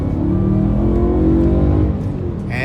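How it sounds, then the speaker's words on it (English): BMW E90 M3 with its V8 engine accelerating hard, a loud, steady rising growl with dense harmonics that holds strong throughout and climbs at the end. "This V8 just sounds so unique."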